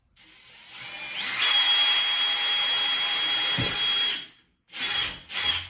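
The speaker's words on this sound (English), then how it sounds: "What I'm gonna be doing here, first off, is drilling the holes." A power drill whines steadily for a few seconds while drilling holes for a bathtub and shower wall, then cuts off, followed by two short bursts of drilling.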